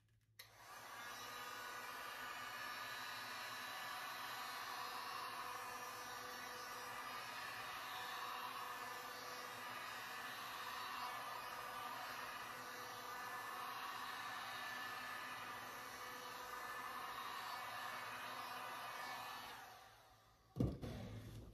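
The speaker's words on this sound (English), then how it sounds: "I'm gonna use my heat gun to warm it up," Heat gun warming resin, a steady close whooshing blower hiss that runs evenly for about twenty seconds and then switches off with a click.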